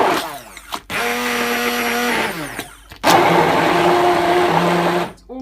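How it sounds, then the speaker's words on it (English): A kitchen blender whirs loudly as it mushes shredded paper into pulp for papier-mâché. It runs in three bursts that are cut by short pauses, and the motor pitch shifts as the mix churns. "it's not clogging up my blender"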